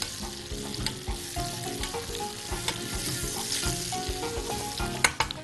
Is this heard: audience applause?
no